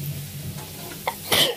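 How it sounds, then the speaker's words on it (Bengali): A person sneezes once, close and sharp, after a short breathy intake, against a quiet room. "কি হাঁচি হচ্ছে"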